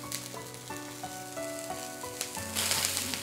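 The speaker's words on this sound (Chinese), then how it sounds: "煎一下鸭子，下锅，鸭子下锅，就只放点花椒、料酒" Duck pieces hit hot oil in a wok with Sichuan peppercorns and cooking wine, sizzling and spitting steadily at close range, with clinks from stirring and the frying surging louder toward the end.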